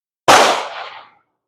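A single loud gunshot from a Mauser Model 71 rifle fired at a target, a sharp close blast with a short decaying tail, heard alone.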